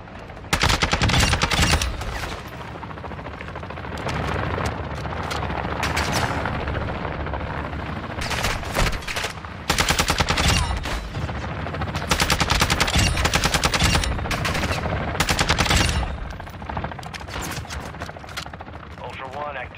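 Gunfire erupts in a gunfight in the video game DMZ: loud, close bursts of automatic fire and single shots in irregular clusters, with sustained noise between volleys and a radio-style voice speaking in places.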